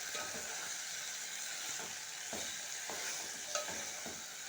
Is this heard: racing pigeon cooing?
no